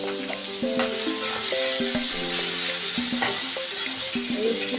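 Chicken pieces fry in hot oil with onions, giving a continuous loud sizzle with occasional stirring scrapes and soft music in the background.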